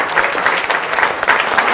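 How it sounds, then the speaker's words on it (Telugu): Studio audience applauding loudly to welcome a chief guest onto the stage of a Telugu comedy show, a dense steady wash of many hands clapping with no gaps. "ఒకసారి గట్టిగా చప్పట్లతో వారికి వెల్కమ్ చెప్దాం"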